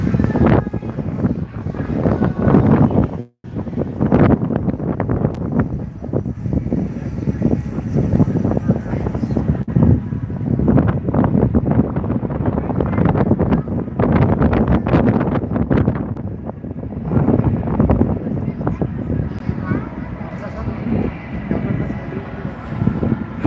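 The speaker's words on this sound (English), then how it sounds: "So the wind is even worse over on the west side of town right now." Strong gusty wind buffets the microphone while walking outdoors in downtown Las Vegas, a loud, continuous roar that rises and falls in gusts, with one brief dropout early on.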